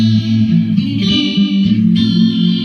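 Guitar notes through a Donner Tutti Love chorus pedal ring out with a shimmering, warbling chorus effect, loud and close, the tone swirling as chords change.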